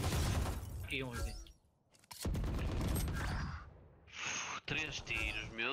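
Gunfire in the tactical shooter Valorant, sharp broadband shots cracking out in short bursts around talk, with a brief lull before more shots and game effects follow.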